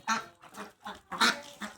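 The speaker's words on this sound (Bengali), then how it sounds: "এগুলো পিওর দেশি হাঁস।" Domestic desi ducks give about five loud, nasal quacks in quick succession, heard close up.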